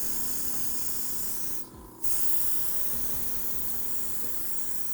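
Blue dye is sprayed onto the suede of an Air Jordan 5 sneaker in a steady aerosol hiss, close and continuous, broken by one short pause before the spraying resumes, with no talk.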